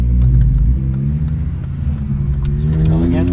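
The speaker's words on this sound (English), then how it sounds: "She's sounding very, very good though. Out of the BYP titanium exhaust." A Honda Integra Type R DC5 with a BYP titanium exhaust idles and revs close by, a loud, deep harmonic engine note that swells and dips, with a voice heard briefly alongside.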